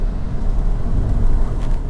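A Cupra Formentor SUV with a 310 hp 2.0 TSI engine and 4Drive all-wheel drive gives a steady, loud low rumble from inside the cabin, with road and wind noise and no clear rise or fall in pitch.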